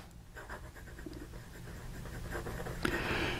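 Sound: Yongseng 9130 fountain pen extra fine nib writing on paper

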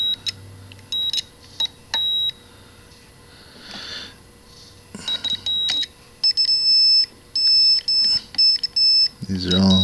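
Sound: logic probe beeping on a faulty NES

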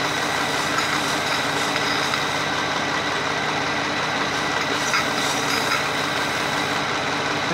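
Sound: engine running during water decarbonization

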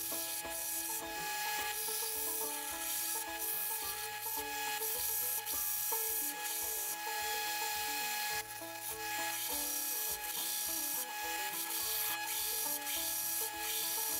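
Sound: grinding a 1095 scrap steel knife blade

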